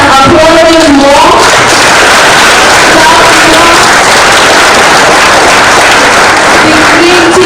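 Loud ongoing applause from a panel discussion audience after a speech on the creative economy, with clapping and crowd murmur under voices speaking throughout.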